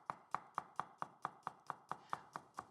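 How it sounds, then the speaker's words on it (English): A knife finely chops chilli on a board, about eleven crisp, evenly spaced taps in a steady rhythm, close and clear with no talking. "fine chopping the chilli."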